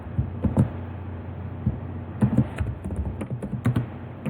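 Keystrokes on a computer keyboard while HTML form code is typed, bursts of quick clicks with short pauses between, close and clear with no talk.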